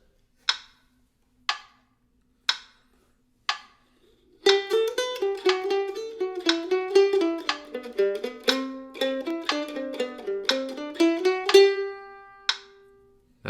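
Fiddle tune played four notes per beat over a metronome click: four lone ticks count in, then quick, even bowed notes run over the steady click, close and fairly soft.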